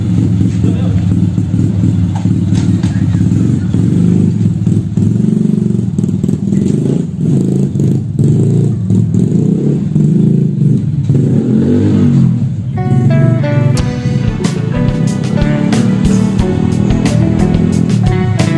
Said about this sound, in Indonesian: Sas, lu mah lambat bawa motor ah.